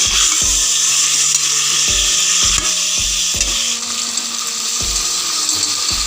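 Rice joins mixed vegetables and tomatoes frying in a pan for a dal khichdi: a loud, steady, close sizzle, broken by a few sharp knocks and short tonal hums.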